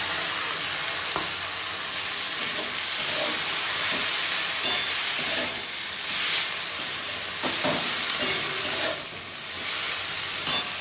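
Leafy greens fry in a pan with eggplant, producing a continuous loud, hissing sizzle that holds steady throughout, with a few soft stirring bumps and no voices.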